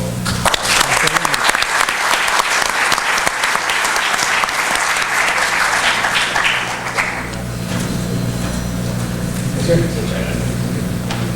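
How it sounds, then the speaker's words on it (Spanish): Loud, sustained applause from a mining conference audience for an award recipient, dense clapping that thins after about seven seconds into a quieter room with a low hum. "Un aplauso, por favor."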